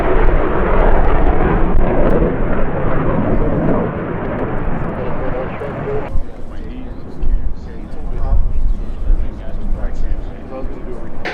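A light airplane, a blue and white Cessna, lands under power at a busy fly-in airshow field. A loud, steady engine drone fills the air and then drops to a softer rumble as the plane rolls past, with radio voices talking over it.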